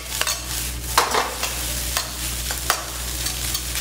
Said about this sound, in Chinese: 现在都用中火哦，用中火一直炒，炒到白饭蓬松为止哦。